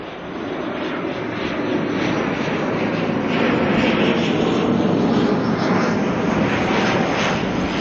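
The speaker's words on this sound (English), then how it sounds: "This little ATR's coming in from Nelson" ATR turboprop airliner arriving at Auckland Airport, a broad, steady engine roar that swells slightly as it approaches, loud and continuous with no voices.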